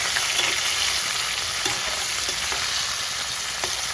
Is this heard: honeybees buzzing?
no